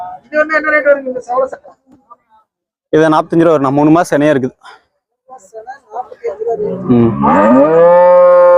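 Cows at a Tamil cattle market moo loudly and close, several long drawn-out calls separated by short pauses, one mixed with people talking nearby.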